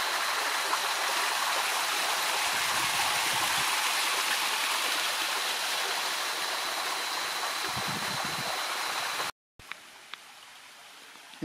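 Río Seco in the Dominican Republic rushes by in a loud, continuous close roar of flowing river water, running high after rain, before a brief cut to a quieter, thinner stretch with a couple of faint clicks.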